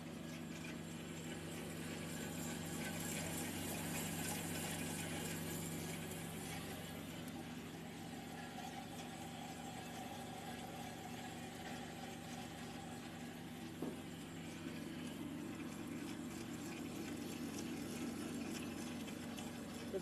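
A JET 8 x 13 inch band saw, 1.5 horsepower with a 4-speed belt drive and coolant pump, powered up and idling with a steady mechanical hum and faint rattling whir, continuous and even throughout.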